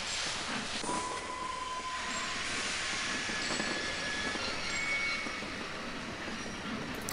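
A train rolls along in Sid Meier's Railroads, a steady rumbling of wagons on track with faint high squeals and a thin whistle tone threading through, continuous and moderately loud for several seconds with no talking.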